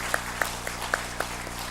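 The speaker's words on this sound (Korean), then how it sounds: "한번 큰 박수 보내주십시오" A church congregation applauds, sounding faint and distant, with a few sharper individual claps standing out over a low steady hum.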